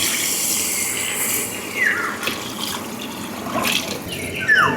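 Water is poured into a cooking pot outdoors for beef balbacua, giving a continuous splashing and gurgling stream with a couple of louder surges near the end.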